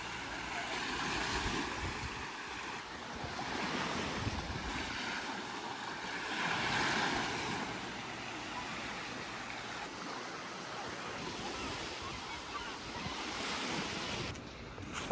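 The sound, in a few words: sea waves on the shore at Pāvilosta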